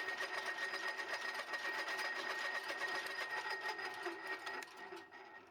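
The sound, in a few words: lathe running in reverse with half nuts engaged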